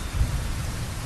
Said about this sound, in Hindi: बाहर बारिश भी धीरे धीरे कम हो रही थी